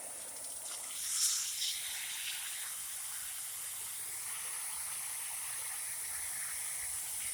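A hose sprays water over hot concrete in a backyard, a steady soft hiss of spray that swells briefly near the start and then holds even and fairly faint.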